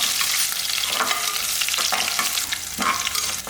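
Cashews, green chili and finely cut curry leaves sauté in a pan for hotel-style pongal, giving a dense close sizzle with a few soft scraping stirs woven through.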